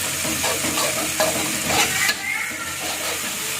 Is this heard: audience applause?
no